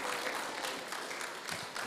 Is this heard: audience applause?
yes